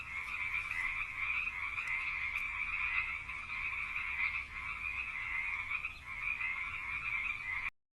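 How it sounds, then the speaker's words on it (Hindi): Many frogs croak in a forest pond, a dense, steady chorus of overlapping calls that carries on loudly and continuously throughout, with no voices. "जंगल के एक तालाब में बहुत सारे मेंढक रहते थे।"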